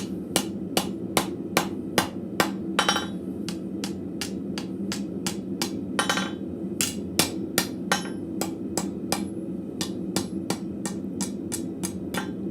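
Blacksmith hammering a steel arrowhead socket on an anvil, a steady run of sharp, ringing metallic blows at a brisk, fairly even rhythm, close and loud over a low forge hum.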